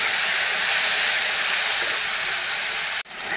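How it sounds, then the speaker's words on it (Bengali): Spice paste frying in oil for an Indian potato dum with whole cumin, a loud continuous sizzling hiss that stops abruptly near the end, with no voices. "এখন আমি মশলাটাকে ভালো করে ভেজে নেব"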